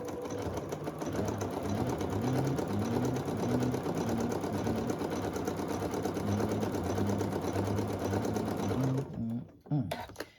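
A sewing machine stitches a mini table runner in a fast, steady mechanical hum and rattle that runs loud and close for most of the time, then slows and stops for the finishing stitch, with a person talking over it.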